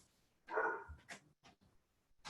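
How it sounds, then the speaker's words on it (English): A dog barks in the background of a home office, a few faint, distant barks and yips spread across the moment with quiet gaps between them. "I apologize for the barking dog in the background."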